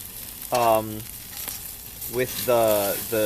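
Bacon-wrapped asparagus pieces fry in a pan as they are flipped, with a soft, steady sizzle underneath. A voice makes a few short vocal sounds over it, loud and close.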